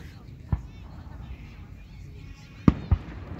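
Several sharp Fourth of July fireworks bangs from a trash can full of fireworks go off at a distance, one early and two close together near the end, over a low background rumble.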